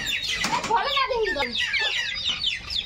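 Chicks peep and cluck in quick, high chirps throughout, with a person talking over them and some rustling nearby.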